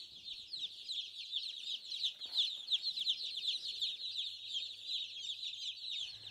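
Four-week-old chicks clucking and peeping outdoors in a farm's front pasture, a steady, dense chorus of high chirps from a flock at moderate distance, with no talking.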